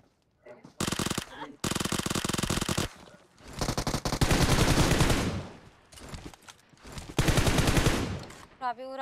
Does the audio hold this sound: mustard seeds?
no